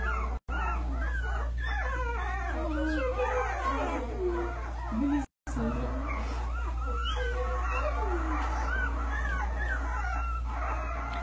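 A mother dog recovering on pain medication whimpers and whines among her puppies, a series of high, wavering yips and soft howl-like cries, close and continuous over a steady low hum, with two brief dropouts.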